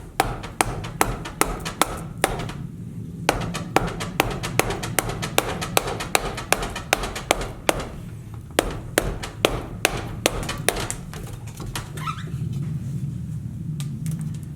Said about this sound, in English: This is kind of me just drawing with this gouge.